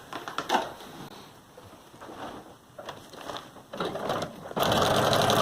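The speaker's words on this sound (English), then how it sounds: "we're going to do the same zigzag, and we're going to sew directly on that line" A sewing machine stitching a zigzag seam on a feed bag being made into a tote, running in short bursts with pauses, then a loud steady run at the end.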